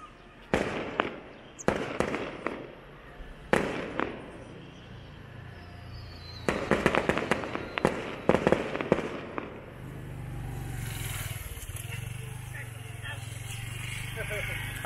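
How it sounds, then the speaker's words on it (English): Fireworks burst in a series of sharp, loud bangs, first spaced out and then a rapid crackling cluster, followed by a lingering rumble and low background hum. "I think the fireworks were for me."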